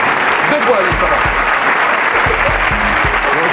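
Brief, steady applause from a French television studio audience, with a voice speaking over the clapping.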